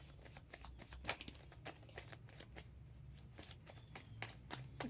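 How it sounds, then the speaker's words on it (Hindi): Playing cards being shuffled by hand, a run of quick papery riffles and flicks repeating steadily over a low background hum, fairly close and moderately quiet. "थोड़ा यहाँ से लेंगे कार्ड हम,"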